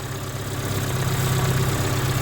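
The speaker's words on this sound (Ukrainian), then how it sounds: "Ну, Моторчик запускається, працює." A ZAZ Slavuta car engine idles steadily with a low, even rumble and constant mechanical hum, close by and without any voices.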